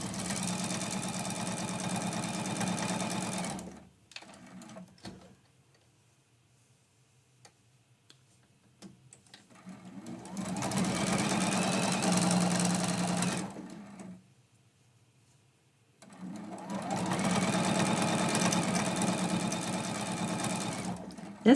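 A sewing machine stitches a quilted mug rug in two long steady runs at a mid-distance, broken by a quiet pause, with a fast even mechanical whir and no talking.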